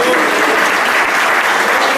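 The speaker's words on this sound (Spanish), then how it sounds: "Denle un aplauso de alabanza al Señor." A Sunday church congregation breaks into loud, sustained applause in praise, a dense wash of many hands clapping close and strong without pause, with voices mixed in beneath.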